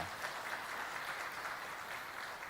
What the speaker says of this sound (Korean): 우리 경제 박수 한번 하겠습니다